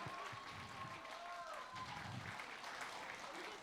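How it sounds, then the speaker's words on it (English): A large crowd applauds for actor Allu Arjun at a film event in India, a faint, distant wash of clapping and cheering heard under talk and background noise. "Please, big round of applause for Allu Arjun sir."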